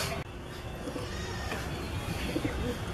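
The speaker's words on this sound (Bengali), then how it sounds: "এটা হলো নড় পায়রা" A high flying tumbler pigeon coos softly at close range, with low murmuring calls over a background hiss.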